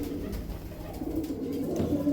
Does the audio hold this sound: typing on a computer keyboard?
no